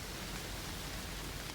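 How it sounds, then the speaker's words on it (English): Steady countryside rain makes a dense, even hiss of droplets without pauses or swells, soft and continuous throughout. "The rain has settled now into a steadier rhythm."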